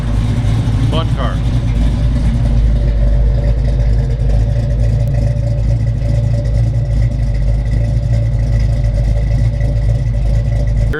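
A 1969 Chevrolet Camaro COPO tribute, high-horsepower V8, runs at a steady warm idle close by, a deep continuous rumble with a brief voice near the start.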